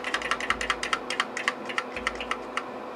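Rapid clicking of computer keyboard keys, a steady run of light taps close up, with no voices.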